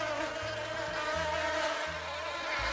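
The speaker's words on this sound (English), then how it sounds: "Buzz, buzz. The bees liked the breeze." Steady insect-like buzzing of bees drones continuously with a low rumbling hum beneath it, loud and close throughout with no voices.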